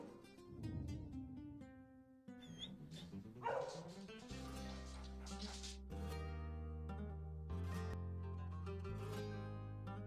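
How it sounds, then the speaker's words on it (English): A pet dog at a tech showcase yips and barks in short bursts, the sounds moderately close and mixed with a bed of music and electronic tones. "This is my dog"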